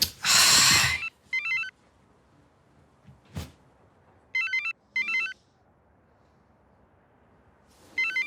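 A mobile phone rings with an incoming call from an unknown number: short bursts of electronic ringtone, loud and near, repeating in an irregular pattern with quiet gaps, plus a sharp knock midway.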